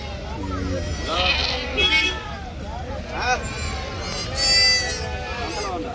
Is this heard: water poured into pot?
no